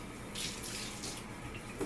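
Tap water runs steadily into a wash basin being filled to rinse a hand-knit wool sweater, a soft continuous splashing hiss close by with no voices.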